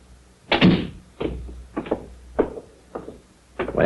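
Door shutting in a 1943 old-time radio mystery drama, heard as a series of about six short, solid wooden thunks and knocks spaced roughly half a second apart, fairly close and without talk.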